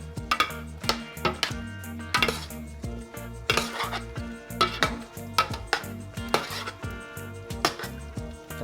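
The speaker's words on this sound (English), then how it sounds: "Mix that all in." A spoon clinks and scrapes against a pot while stirring adobo sauce with soy, vinegar and sugar, a steady series of close metallic knocks over a low background tone.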